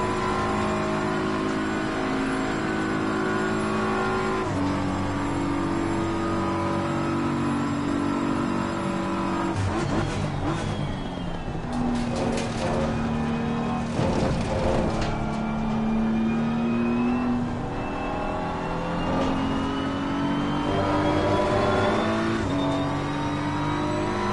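A race car's engine roars from onboard during a race at Spa, loud and continuous, with the revs climbing and dropping through gear changes over nearly half a minute and no talk.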